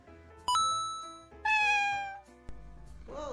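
A cartoon-style cat meows several times, bright harmonic calls with falling pitch, loud and close, mixed with ringing ding-like tones and a short clang near the end.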